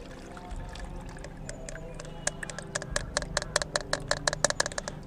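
Soaked diammonium phosphate fertilizer is mixed into potting material for primroses. Close, irregular rattling clicks and scrapes grow quicker and sharper over a low background rumble.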